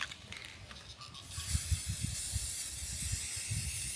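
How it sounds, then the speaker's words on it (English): A spray paint can hisses in short bursts at close range as it coats wooden pieces for a cabin build. The bursts start quietly, then turn louder and steadier in the second half. "So I'm gonna spray paint them."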